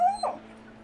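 A puppy with an injury whimpers in a short, high, wavering whine that fades quickly into quiet background.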